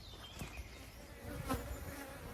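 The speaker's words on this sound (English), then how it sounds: "Got some feisty bees here" Honey bees buzz continuously around hives being unloaded at an outdoor apiary, a dense steady drone with individual bees passing close by.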